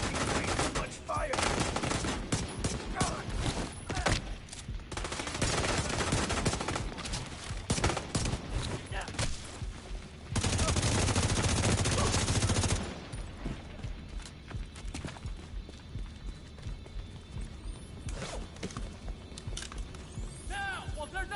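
Dense automatic gunfire from a Division 2 firefight, loud sustained bursts and rattling volleys with a steady roar and explosive blasts, continuing near and heavy while a voice shouts over it.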